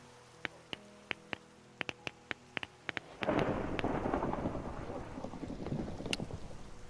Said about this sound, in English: I'm not dealing with thunder and lightning